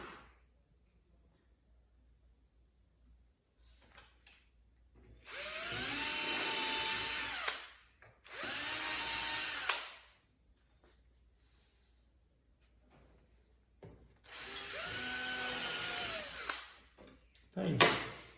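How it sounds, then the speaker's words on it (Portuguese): An electric drill bores through wooden boards of a honeycomb-style shelf in three separate whining bursts, each a few seconds long with rising and falling motor pitch, loud and close against an otherwise quiet room. "e depois eu venho com a furadeira e atravesso as duas"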